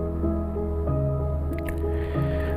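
A motorcycle churns through mud and water-filled potholes on the way to Doodhpathri in Kashmir, its engine humming steadily up close while wet squelching and splashing sounds rise over it.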